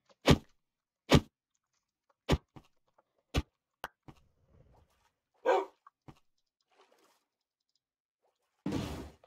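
A dog in the Minecraft video game barks several times in separate crisp bursts, followed by softer whimpering and a swishing sound near the end, with no talk.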